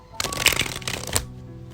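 A deck of cards riffle-shuffled in a quick burst, then bridged with a short flutter, close up and crisp, followed by quiet.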